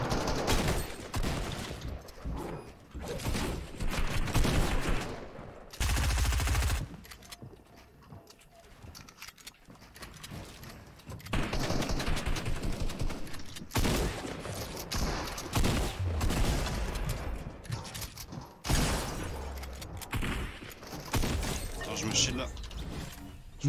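Gunfire in a shooting video game plays in repeated loud bursts and scattered shots with brief quiet gaps, mixed with game effects and someone talking over the action.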